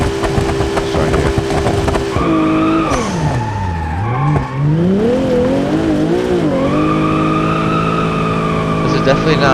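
Car tyres squeal and skid while drifting in the BeamNG driving game, long sustained screeches rising and falling in pitch over a constant engine drone, loud and close, with no one speaking.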